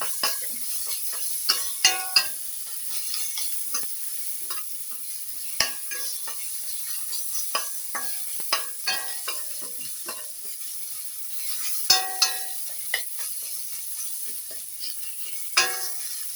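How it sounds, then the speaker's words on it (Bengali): Ginger garlic paste frying in a pan for an Indian Jewfish curry, a steady soft sizzle under frequent clinks and scrapes of a spatula stirring against the metal. "এগুলো দিয়ে আমি একটু ভালোভাবে এগুলো ভেজে নেবো, যাতে আদা রসুনের কাঁচা গন্ধটা চলে যায়"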